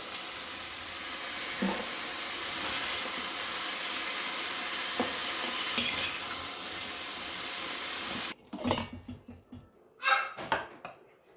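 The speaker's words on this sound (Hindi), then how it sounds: "कैप्सिकम और ग्रीन मटर को डाल के फ्राई करते हुए 2 से 3 मिनट हो गया है।" Capsicum and green peas fry in a pan with a loud, continuous sizzle, then the sizzling stops and gives way to a few scattered clatters and scrapes, with no talking.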